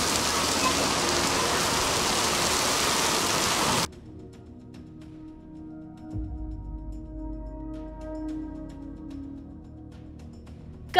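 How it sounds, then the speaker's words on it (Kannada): Heavy rain pours down steadily in Kalaburagi district, a loud, dense hiss filling the first few seconds before cutting off abruptly to a much quieter background. "ಕಲಬುರಗಿ ಜಿಲ್ಲೆಯಲ್ಲಿ ಮಳೆ ಅಬ್ಬರಿಸ್ತಾ ಇದೆ"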